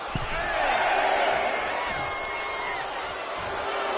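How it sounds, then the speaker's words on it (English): An arena crowd in the WWE 2K25 wrestling game, at an NXT Battleground event in Las Vegas, roars and cheers steadily throughout, with whistles and shouts rising above a dense wash of noise. "The crowd is fired up."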